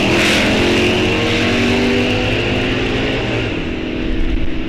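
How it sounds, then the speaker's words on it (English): A 1966 Pontiac GTO with a four-speed launches in a heads-up drag race at Rock Falls Raceway, its loud engine roaring close and steady across the whole stretch before fading slightly. "Keith Sand in the 66 GTO 4-speed"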